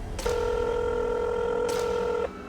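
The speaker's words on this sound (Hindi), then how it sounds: "उसने डॉक्टर का प्रिस्क्रिप्शन निकाला और उस पे लिखे फोन नंबर पर कॉल करने लगी" A phone number being dialed on a telephone keypad, heard as a single sustained electronic dial tone lasting about two seconds, clear and alone over faint background hiss.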